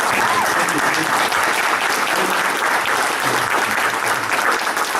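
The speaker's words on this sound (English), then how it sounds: "great big round of applause for Fireman here." Loud, continuous applause from a convention crowd, dense clapping sustained throughout with a few scattered voices underneath.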